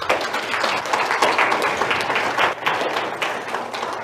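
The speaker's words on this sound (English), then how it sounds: "Give the Lord a round of applause." A church congregation claps during a morning service in a steady, moderately loud round of applause, with faint crowd murmur and a little voice mixed in.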